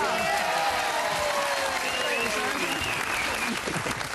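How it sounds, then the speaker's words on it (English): A TV quiz show's studio audience gives a big round of applause for Santa at a Christmas special, sustained dense clapping with voices rising over it. "a massive round of applause for Santa!"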